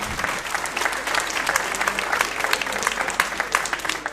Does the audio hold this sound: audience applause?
yes